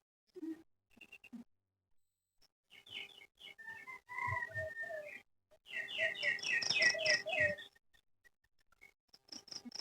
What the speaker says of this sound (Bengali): একদম চারিদিক সাইলেন্ট, শুধু পাখির আওয়াজ আসছে।